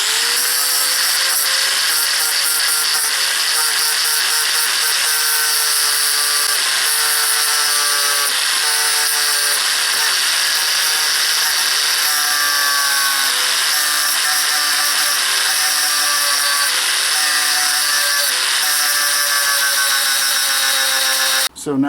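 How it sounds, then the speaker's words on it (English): An angle grinder cuts into a steering head bearing race on a Suzuki VX800, giving a loud, sustained, high-pitched metallic whine with shifting tones for over twenty seconds before stopping abruptly. "cutting it using an angle grinder"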